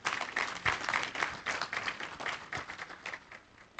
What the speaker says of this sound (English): Shall we clap for ourselves?